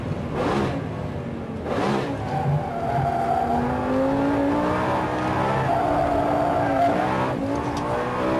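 Lamborghini Gallardo SE engine droning loudly close by as the car is driven hard, with rising revs and a drawn-out tire squeal over the steady engine roar.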